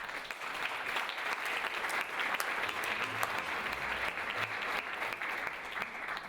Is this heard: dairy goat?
no